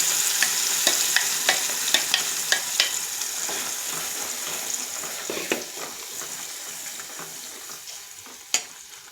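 Prepared onion-tomato chutney is fried in a hot pan with curry leaves, a dense, steady sizzle close by, broken by sharp scraping ticks from a stirring spoon, with no talking.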